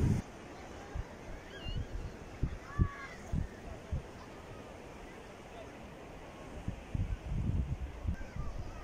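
Ocean surf washes onto a beach at Viareggio, Tuscany, in a steady hiss broken by low, gusty thumps of breaking waves, with faint distant voices in the background.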